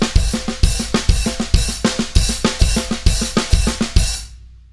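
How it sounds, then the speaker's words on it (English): A drum kit fill alternates hands across hi-hat, snare and kick in a steady, punchy rhythm of closely spaced hits, ending with a ringing decay. "play that fill that I did when I was just jamming around the kit"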